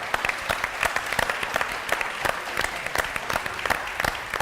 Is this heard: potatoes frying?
no